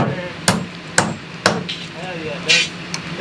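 Hammer blows bracing a concrete form board on a pool beam job site, about five sharp, close strikes in a rough half-second rhythm, with some faint background noise between hits.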